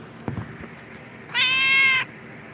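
A single clear, drawn-out meow from a house cat, close and fairly loud, lasting well over half a second, preceded by a few faint soft rustles in an otherwise quiet room.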